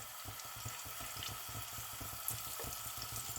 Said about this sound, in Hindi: अब हम इसकी फ्राइंग की तरफ चलते हैं